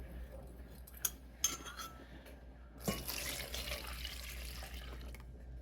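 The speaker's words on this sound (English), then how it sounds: "And then we're going to pour this into the gelatin." Half and half being poured from a cup into gelatin for keto coffee jelly, with a couple of sharp clinks first and then a steady liquid pour of a few seconds, fairly close and quiet.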